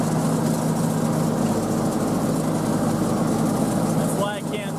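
A farm tractor engine runs steadily at a field while soybeans are being broadcast. It gives a constant low, droning rumble throughout at close range, with a brief faint chirpy sound near the end.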